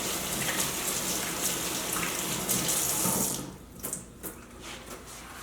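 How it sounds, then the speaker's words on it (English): Tap water runs steadily into a kitchen sink while hands are washed under it during meal prep, a continuous close splashing flow that thins and breaks into intermittent drips and splashes near the end. "Washing my hands."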